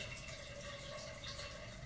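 Water runs steadily from a tap for the whole stretch, a continuous low, even splashing rush with no voices over it.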